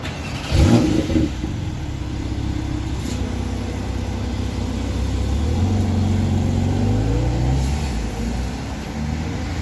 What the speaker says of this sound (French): je vais vous montrer le start-up de la Porsche 911 Carrera